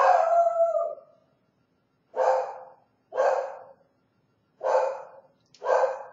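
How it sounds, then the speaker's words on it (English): A single dog lets out one long howling bark followed by four short, sharp barks spaced about a second apart, loud and close with silence between them. "Oi, what are you barking at, dog?"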